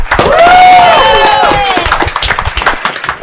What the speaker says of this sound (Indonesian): Tepuk tangan untuk Rina